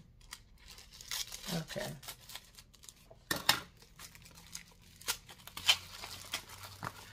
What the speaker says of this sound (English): let me use my scissors, y'all. Let me use my scissors. Try to cut this thing.